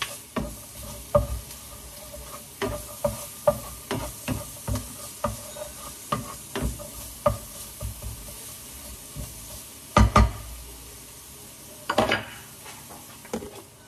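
Pork being stir-fried in a small amount of oil for a sitaw dish, with a sizzling hiss under repeated sharp clacks of a utensil against the pan, some louder scraping strokes near the end, close up.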